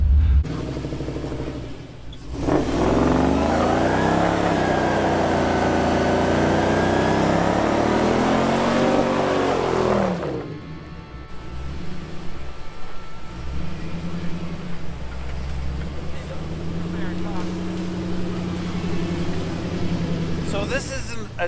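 A Chevrolet Corvair drives an off-road trail in Moab during the Easter Jeep Safari, its engine rising and falling in pitch as it revs over the rough ground, with people talking over the steady motor rumble.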